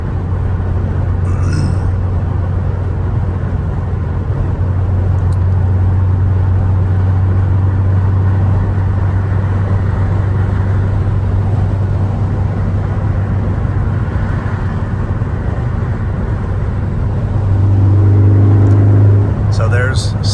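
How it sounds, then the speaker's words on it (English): A 2013 Ford Focus ST3 accelerates on a freeway in sixth gear at around 80, its steady low engine drone and road roar filling the cabin, swelling louder near the end. "So there's 6th gear going 80, and even in 6th gear you can push it down and still get decent acceleration without having to downshift."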